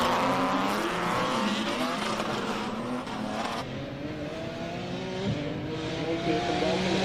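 A race car engine revs hard at the Simola Hillclimb, a loud, sustained roar that rises and falls through gear changes, heard close and continuous with no talk over it.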